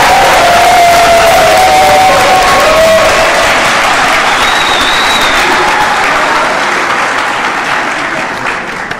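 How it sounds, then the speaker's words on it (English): An audience at a graduation ceremony gives the graduates loud, sustained applause mixed with cheering and crowd noise, tapering slightly toward the end, with a voice faintly audible early on. "Let's give them all a round of applause."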